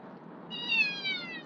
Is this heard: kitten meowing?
yes